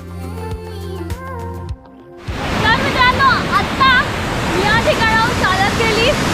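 Bhuvan Waterfall in a forest near Kolad, Raigad, with flowing water: steady broadband rushing fills the clip after a quiet opening, under scattered bird chirps, loud and close.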